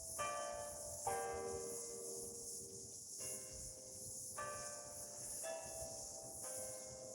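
A doorbell rings with repeated ding-dong chimes, clear two-tone strikes ringing out over a steady hiss and low background rumble, with no talking.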